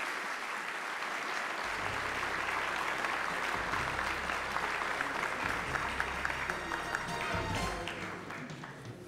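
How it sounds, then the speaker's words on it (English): A large audience applauds at the 2018 Kelowna Civic & Community Awards gala. Sustained, full-room clapping holds steady for several seconds under a low hum from the hall, then eases slightly toward the end. "Please give them a round of applause"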